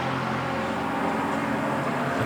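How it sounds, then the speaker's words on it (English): A Lexus GT race car at Spa during 24-hour Super Pole qualifying gives a steady, muted exhaust drone with a constant engine tone throughout, heard alone. "There's got a very muted exhaust note."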